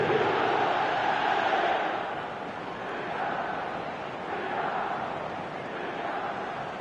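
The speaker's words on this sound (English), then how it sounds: "Now the crowd are demanding that they just finish this off" A large stadium crowd in the eFootball 2026 video game roars steadily at a Premier League-style match after a goal, a broad, continuous wash of cheering that swells loudest early and then settles into a sustained, slightly fluctuating din.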